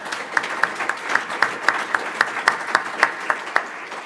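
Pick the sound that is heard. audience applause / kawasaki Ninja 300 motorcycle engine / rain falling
audience applause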